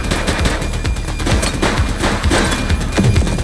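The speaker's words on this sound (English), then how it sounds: "He's shooting!" Rapid gunfire erupts in a police shootout in The Precinct video game, loud bursts of automatic fire and single shots crackling continuously across a busy, dense mix.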